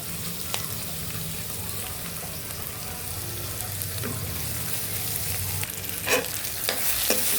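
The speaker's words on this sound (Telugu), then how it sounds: "ఇదిగండి ఉల్లిపాయలు వేగేవి" Onions sizzle steadily in a hot pan, a constant frying hiss with a few sharp clinks of a utensil near the end.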